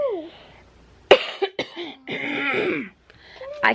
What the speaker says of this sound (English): every time I cough, mine's like this dry, raspy cough